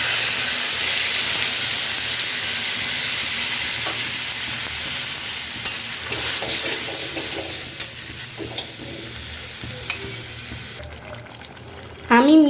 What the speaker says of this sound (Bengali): আমি এবারে জলটা দিয়ে দেব।